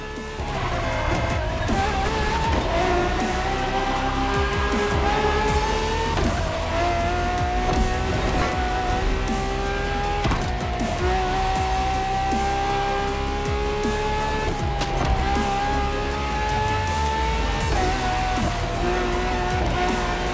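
Ferrari V12 hybrid supercar racing in The Crew Motorfest, its engine note climbing steadily through gears with a loud, continuous tonal whine and brief tire squeal, alone with no voices.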